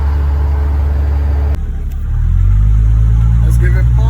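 A vehicle with a 47RH automatic transmission cruises under light throttle, giving a loud, steady low engine drone that deepens and rises slightly partway through, with no talking.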